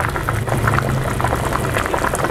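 Beef simmering in a pot after nearly 40 minutes of boiling, a close, steady bubbling and gurgling with no voices.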